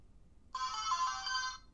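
LEGO Mindstorms NXT robot brick playing its short electronic start-up tune, a faint one-second synthesized chime sounding alone in a quiet room.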